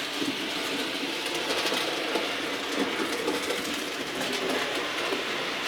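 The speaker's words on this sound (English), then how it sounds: "Lovely locomotive. Bachmann A1." Bachmann A1 model locomotive running over Peco points in a fiddle yard, a steady close rolling rumble with faint rhythmic clicking wheels throughout, no talking.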